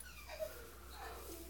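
An excited dog whimpers softly at a puppy, making faint, thin rising whines over a low steady background hum, quiet and a little distant.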